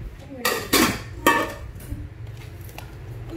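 Stainless steel cooking pots and lids being handled, giving a few sharp metallic clanks and clinks close by, with a soft background hum and no talk over them.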